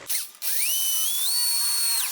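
A power drill spins up and bites into a steel plate to start a hole, a loud whining motor with its pitch rising and then holding steady, heard close and alone for about two seconds.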